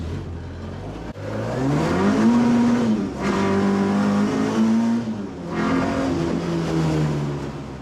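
After a gearbox repair, a car engine revs up through several gears, each pull rising in pitch and then dropping at the shift. The engine sounds close and loud, with brief pauses between the pulls.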